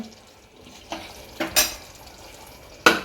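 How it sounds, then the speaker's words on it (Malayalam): Spoon stirring chicken curry in a pressure cooker, a few scattered scraping knocks against the metal pot over a low sizzling background, close and short. "ഇനി അത് ഇളക്കി കൊടുക്കണം"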